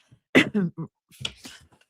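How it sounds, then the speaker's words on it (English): A couple of short, harsh coughs close up, followed by a rougher throat-clearing burst, in otherwise quiet surroundings. "I've just got to cough for a second"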